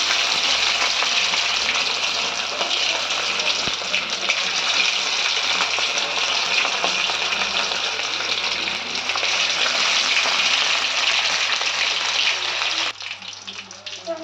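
Fish pieces sizzle steadily in hot oil in a pan, a continuous close crackling hiss that holds through most of the clip, then drops to a softer sizzle near the end as the heat is turned down.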